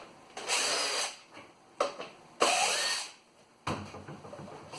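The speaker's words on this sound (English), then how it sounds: "It's an 8mm socket on the impact gun." An impact gun fitted with an 8mm socket backs bolts out of a GY6 150cc motor, three broadband whirring bursts of a second or so each, close and fairly loud, separated by short pauses and a final softer burst.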